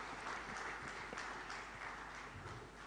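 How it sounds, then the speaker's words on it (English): Applause from the audience at an MSME steel conclave, a soft continuous patter of many hands heard from some distance, steady throughout with no voices over it. "Can we once more have a huge round of applause for sir,"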